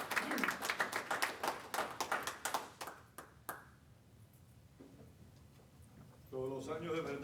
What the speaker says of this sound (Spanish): Un gran aplauso para Pedro Corzo.